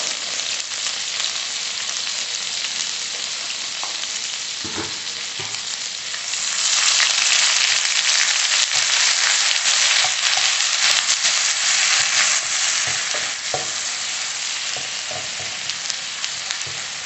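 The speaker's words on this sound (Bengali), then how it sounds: "আদাটা একটু ভাজা ভাজা করে নেবো যাতে কাঁচা গন্ধটা চলে যায়।" Ginger frying in a pan with turmeric powder for a paneer and peas curry, a steady broadband sizzle that grows louder midway, with occasional stirring scrapes and no talking.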